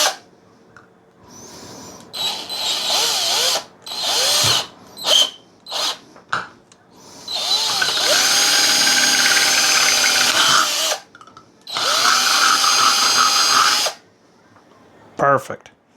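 A power drill whines loudly in repeated bursts as it bores a hole in a metal lid, its pitch shifting as it bites in, with short pauses and clanks between runs.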